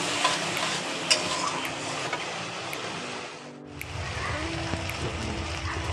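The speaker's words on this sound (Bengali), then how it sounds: "যতক্ষণ মশলার থেকে তেল না ছাড়বে ততক্ষণ মশলাটাকে ভালো করে কষিয়ে নিতে হবে" Masala spice paste stir-fried in a pan for an aloo potol curry, with steady crackling sizzle, scraping and stirring, a brief dip midway before the frying resumes more strongly.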